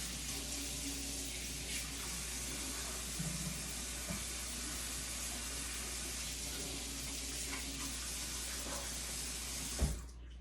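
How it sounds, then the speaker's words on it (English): Tap water runs steadily into a sink while hands are washed before cooking a sirloin steak, a constant broadband rush with faint splashes, then a sharp knock near the end. "you're going to want to wash your hands."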